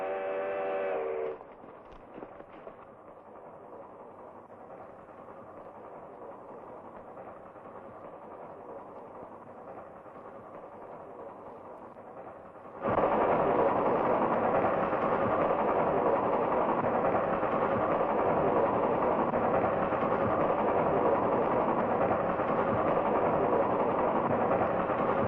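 A train's engine rumbles steadily at a distance, then swells abruptly into a much louder, closer roar as it comes around a bend, holding a heavy, continuous drone to the end, in an action film scene.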